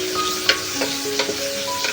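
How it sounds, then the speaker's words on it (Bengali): Chopped tomato frying in a pan with salt and turmeric, a steady close sizzle broken by a few scraping stirs. "খানিকক্ষণ হতে দেব, টমেটোটা গলে যাওয়া অবধি একটু ভেজে নেব আর কি"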